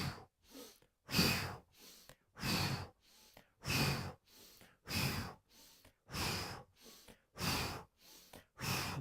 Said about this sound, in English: as you twist to the left, you open your mouth with an O shape and you exhale out the mouth